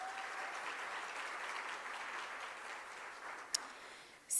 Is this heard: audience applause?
yes